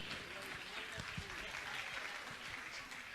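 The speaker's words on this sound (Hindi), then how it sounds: "मैं चाहूंगा आप जोरदार ताली बजाकर इनका सम्मान करें।" An audience gathered at a religious discourse and honouring ceremony claps steadily, with voices speaking over the applause.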